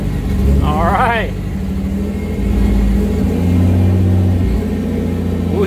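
An R33 Skyline GTST engine, running rich after an idle air control valve cleaning, revs up loudly from idle and holds a steady drone, with brief excited voices over it.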